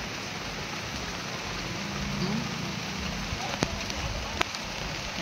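Steady rain pours down onto garden plants, including moringa trees, as a dense, even hiss that holds throughout, with a few sharper drips and taps standing out near the end.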